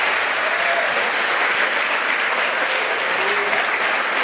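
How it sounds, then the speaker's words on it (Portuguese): A church congregation at a Sunday service claps loudly and continuously, a dense, even wall of applause that fills the whole stretch, with no clear shouts standing out above it. "Dê o seu melhor aplauso e libere um grito de liberdade."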